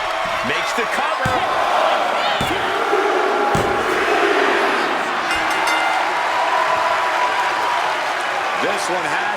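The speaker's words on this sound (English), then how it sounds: "Just listen to this crowd." A wrestling crowd at a Lucha Libre AAA show roars with sustained cheering and applause, loud and continuous, with a few sharp slams cutting through and a commentator talking over the noise.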